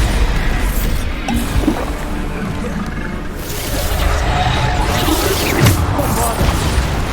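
Bombarda explosion spells in a video game burst as a string of dull booms and crashes, with whooshing debris and rumbling game noise between hits.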